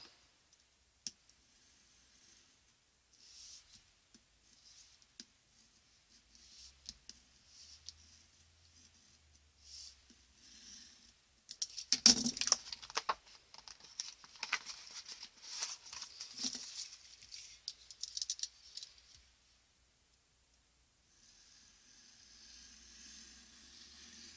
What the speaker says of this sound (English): try and keep the knife in the same place and then just move it round the curve.